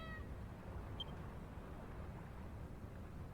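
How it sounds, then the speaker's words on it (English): A cat meows in the video game Dragon Quest Builders 2, short and faint against a low ambient background hum. There is a brief call at the start and a tiny chirp a moment later. "Oh, just a kitty, eh?"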